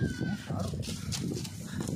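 Goats bleat close by outdoors while people talk over them in a steady, busy jumble of voices.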